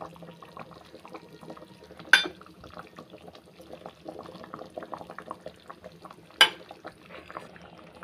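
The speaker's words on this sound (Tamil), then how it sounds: "நல்லா கொதிக்குது குழம்பு" An egg curry bubbles and simmers quietly in a pot, with soft continuous popping and two sharp clinks of a utensil against the pot.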